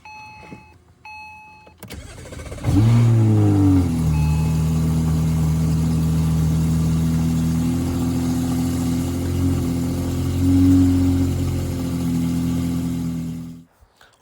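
A 2007 BMW E93 engine cranks and catches, then settles into a steady, loud idle close by that runs for about ten seconds with a slight rise in revs near the end. Nobody speaks.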